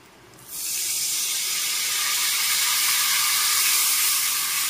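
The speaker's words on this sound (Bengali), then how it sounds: "এখন দিয়ে দিচ্ছি কাঁচা লঙ্কা আর একটু জল মিশিয়ে দিচ্ছি" Green chillies and water poured into a pan of cooking raw mango fish curry with katla fish, a sudden loud hiss and steaming sizzle that swells and holds steadily to the end.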